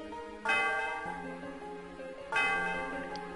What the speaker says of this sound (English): why don't you ring the bell?